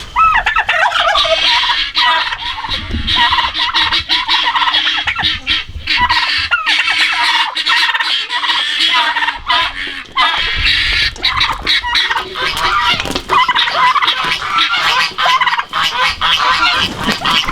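Farm turkeys gobble loudly and nearly nonstop at close range, their rapid rattling calls overlapping one another in a dense flock chorus.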